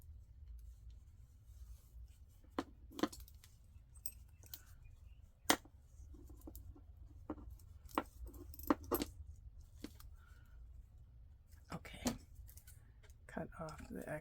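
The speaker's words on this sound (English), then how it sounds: "Let's put this wonderful little key that I rusted, made it look rusty." A small rusty metal key tied onto a handmade tassel gives faint, scattered light clinks and rustles, quiet and close, with soft handling sounds between them.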